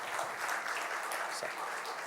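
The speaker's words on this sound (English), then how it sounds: "Please welcome, with a big round of applause, Mr. Pankaj Dharkar ji." An audience at a conference inauguration applauds a speaker being welcomed, a dense wash of clapping that is moderately loud and steady throughout, with some voices mixed in.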